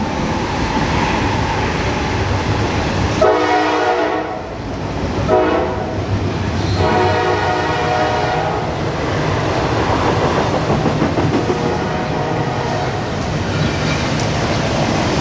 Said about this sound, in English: I'm not gonna miss that train at all because it's coming right now as we speak.